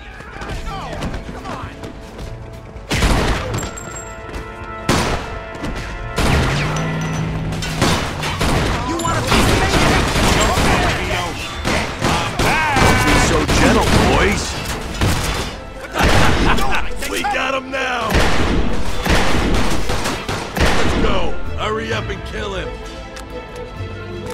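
Gunfight in the video game Mafia II, with dense bursts of gunfire and thudding impacts mixed with crashes, running loud and continuous under music and shouted voices.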